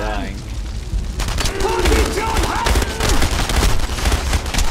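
Rapid gunfire rattles and booms in the World War II shooter game Enemy Front, dense and loud for most of the stretch, while someone talks over it.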